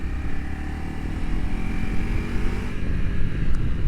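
Honda CRF300L Rally motorcycle riding, a steady loud engine drone with a rumbling low end throughout, no talk over it.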